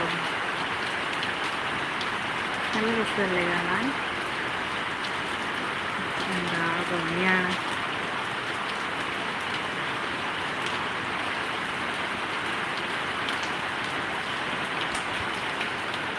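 Steady rain falls outdoors in a continuous, even hiss that fills the whole stretch, with a few brief voices heard over it near the start and middle.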